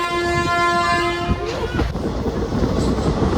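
A passenger train on a route toward Pune and Jejuri sounds a long, loud horn blast, then continues as a steady rolling rumble with rattling wheel noise close by.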